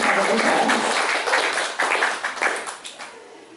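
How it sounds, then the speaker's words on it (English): Warm audience applause for panel guests at a public conversation event, a dense steady clapping from a crowd that fades toward the end. "Honestly, round of applause for these incredible guests."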